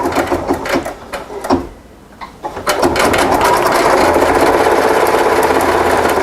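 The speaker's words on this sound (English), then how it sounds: "So this is going to be a really fast triple stitch here." An embroidery machine runs a fast triple stitch with a quick rhythmic clatter. A few uneven bursts come first, then a steady loud run of stitching to the end, with no voices.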